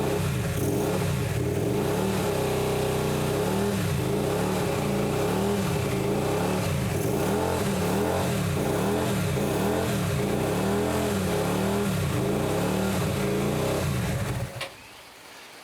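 A 125cc motorbike engine, started after standing for two years, runs loud and close with repeated rising and falling revs, unable to settle into an idle, then cuts out abruptly near the end.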